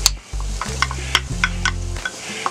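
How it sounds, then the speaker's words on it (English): Chopped onion sizzles in a hot pan while a utensil scrapes and taps through it in quick, irregular strokes, close and clear with no talking. "We're gonna saute these up. And then my celery's gonna go in."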